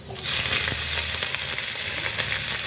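Green chillies hitting hot oil with browned chai flip for a Manipuri-style local mirga fish curry, bursting into a loud, close, sustained sizzle that stays strong and crackly to the end, no talking.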